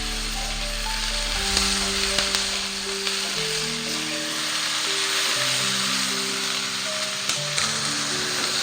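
Tomato and spice paste sautéing in a pan, a soft, continuous sizzle with faint scraping clicks, heard under steady background music without talking.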